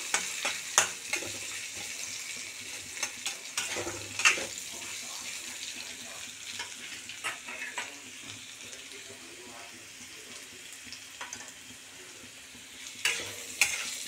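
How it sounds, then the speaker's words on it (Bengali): Papaya frying in a pan, with a soft sizzle under intermittent stirring and scraping, spoon knocks breaking out here and there, and a faint watery hiss in the background. "এটাকে ভাজা ভাজা করে নেব।"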